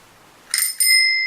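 A repaired bicycle bell is rung twice, close and loud, each strike a bright metallic ding, the second ringing on with a long sustained shimmer.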